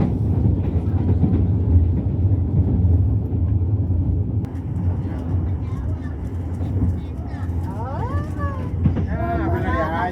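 A low, heavy rumble of a KA Bengawan passenger train crossing a river bridge, rolling steadily along the rails, with faint voices talking inside the carriage toward the end.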